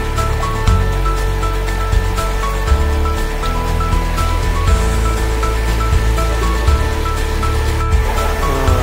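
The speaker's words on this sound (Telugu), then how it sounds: "పైనుంచి జలపాతం పడుతుంది వాటర్ కిందకి" A loud, steady rush of Jonne waterfall in Karnataka roars continuously, close by and unbroken throughout.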